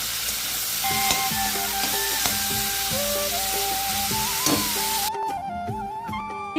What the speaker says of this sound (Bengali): আর কাঁকরোল ভাজা করছি এখানে